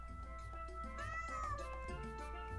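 A cat meows in the video game Granny In Paradise, a rising and falling cry near the middle, heard over steady game music with no talking.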